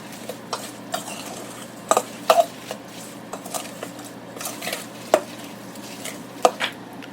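A bulgogi marinade of soy sauce and sesame oil being mixed in a bowl, with soft stirring and a series of light, sharp utensil taps and clinks at irregular intervals, close and fairly quiet, with no talk.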